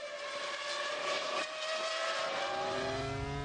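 Formula 1 cars racing at the 2001 Italian Grand Prix, high-pitched engine whines climbing steadily in pitch as they accelerate, a continuous loud scream with a deeper engine note joining near the end.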